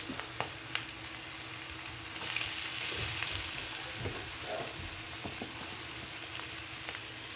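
Pancit dughit noodles are tossed and stirred in a frying pan with browned aromatics. A soft, low-level sizzle runs throughout, broken by a couple of sharp utensil clicks and gentle scraping.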